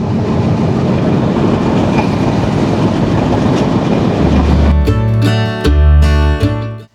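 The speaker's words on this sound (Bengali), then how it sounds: "শেষ পর্যন্ত দেখা যাচ্ছে জাহানাবাদ এক্সপ্রেস লাল সবুজের ট্রেন।" Jahanabad Express, a red-and-green passenger train, rumbles steadily along the rails near a junction in the morning, then gives way to loud sustained horn-like tonal blasts toward the end.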